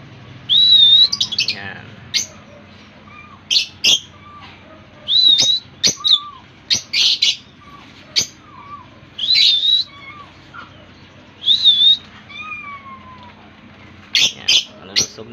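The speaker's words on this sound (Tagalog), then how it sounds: "Nalusog na mga ibon guys." Pet birds, eight and four months old, chirp and whistle in short bright bursts that repeat irregularly throughout, clear and close over a quiet indoor background, with a brief word spoken once.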